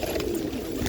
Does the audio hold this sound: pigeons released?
yes